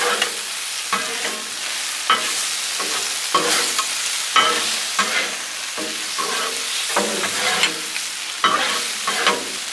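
Steak, shrimp and mushrooms seasoned with salt and pepper are stirred on a Blackstone griddle for hibachi, with a steady loud sizzle broken by repeated scraping strokes of a spatula against the flat top every second or so.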